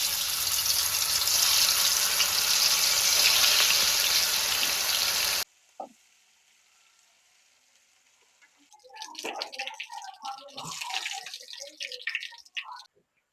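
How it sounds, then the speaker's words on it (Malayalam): Chicken fries in hot coconut oil with a loud, dense sizzle for about five seconds. It then drops to near silence, and bursts of crackling and spattering follow. "നമ്മൾ കുറച്ച് ചിക്കൻ ഇട്ട് വറുത്തെടുക്കാം."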